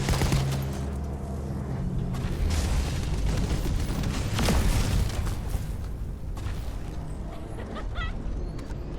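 Sustained gunfire and explosive booms fill a hectic firefight in the looter-shooter The First Descendant on hard mode against a Devourer boss, dense overlapping shots rolling on steadily with no pauses and no talk.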